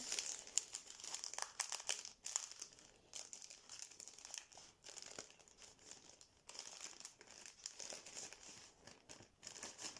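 Soft, steady crinkling of a plastic zip bag being handled up close around a peat-filled cup, with small rustles and crackles throughout.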